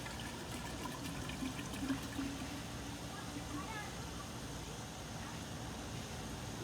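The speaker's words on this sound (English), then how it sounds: "get your gallon of water, pour half of it in the container" Water from a gallon jug poured into a container for sun-brewed sweet tea, a steady continuous splashing and trickling rush throughout, with low background noise.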